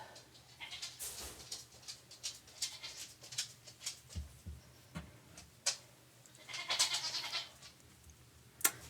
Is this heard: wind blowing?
no